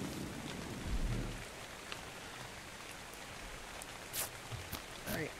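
Steady hiss of rainfall in the video game ARK: Survival Evolved, with scattered droplet taps, a few brief low thumps, and faint background voices underneath.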